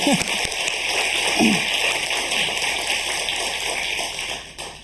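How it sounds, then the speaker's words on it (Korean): A church congregation claps in encouragement during a Sunday worship service, a dense, steady patter of applause that gradually thins and fades out. "우리 격려 박수 한번 드리도록 하겠습니다"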